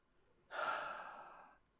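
One long, soft breath from a voice imitating steady, rhythmic breathing. It is close and quiet, lasts about a second, and is heard on its own.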